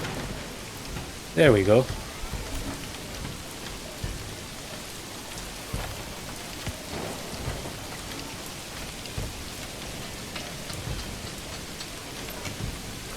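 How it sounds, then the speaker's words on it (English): Steady rain falls across the medieval village in the game Manor Lords, a soft continuous hiss running the whole time, with a brief burst of speech near the start. "the rain has started"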